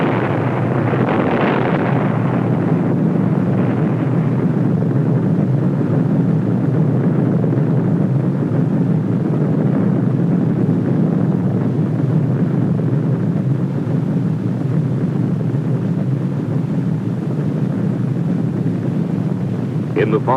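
Operation Crossroads atomic bomb test blast, heard as a sustained loud low roar and rumble that fills the whole stretch, broad and wind-like with no distinct breaks.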